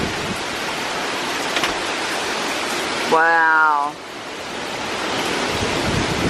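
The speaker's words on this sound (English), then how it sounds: "these gusts are getting strong now" Strong wind gusts from Hurricane Delta in Louisiana roar as a steady broadband rush throughout, with a voice briefly exclaiming midway over the gusting.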